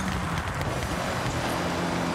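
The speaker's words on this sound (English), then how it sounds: "hear the engine has more power" A turbocharged car engine roars steadily in Forza Horizon 6 during a rally-style drive, a continuous loud broadband drone with road noise and no talk.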